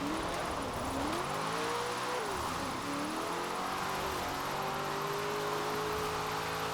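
A racing car engine in Forza Horizon 4 sings continuously at high revs, its pitch sweeping up and down through gear changes, loud and close with a constant hiss and another car's engine behind it.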